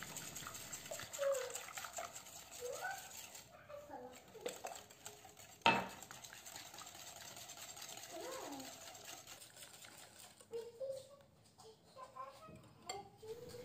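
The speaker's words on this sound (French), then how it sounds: "Puis 150 ml d'huile végétale en continuant de fouetter." Batter being whisked in a bowl while vegetable oil is poured in makes faint, quick scraping and tapping of a whisk, with one sharper knock partway through, all soft and low in level.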